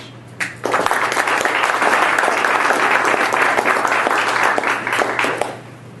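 An audience welcomes a speaker at an evening talk with loud, dense applause that swells quickly, holds steady for several seconds, then tapers off.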